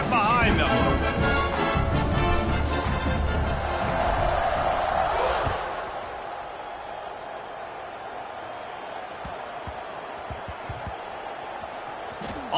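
Stadium crowd in a college football video game roars loudly at the kickoff, a dense wash of cheering that dips partway through and carries on under an announcer's voice.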